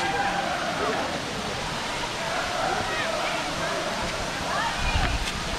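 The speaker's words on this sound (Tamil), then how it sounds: "இங்கே பெத்த ஃபால்ஸ் அது." Water pours steadily over Kona Falls, a broad continuous rushing roar with people talking over it throughout.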